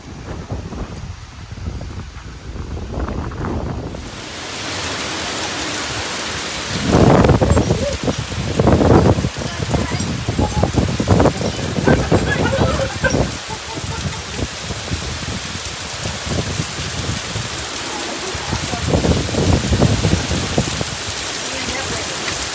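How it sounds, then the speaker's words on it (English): Rain arrives as a sudden wall of hiss, pouring steadily and loudly onto surfaces and leaves, with heavier bursts coming and going. "That's a wall of rain headed towards us."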